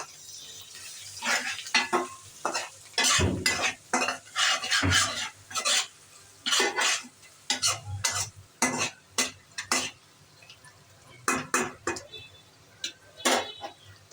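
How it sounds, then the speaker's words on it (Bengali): Turmeric, chili powder and salt are stirred in hot oil in a home kitchen, a spoon scraping the pan in irregular close strokes over a faint sizzle. "দিয়ে এখন একটু লাড়াচাড়া করব"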